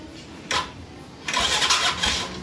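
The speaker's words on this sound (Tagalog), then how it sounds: "mag-i-start tayo ng makina" An RKS 150 motorcycle engine is cranked with a short first burst of starter whir, then a second longer crank that catches into a rough mid-pitched running sound, close by with no talking.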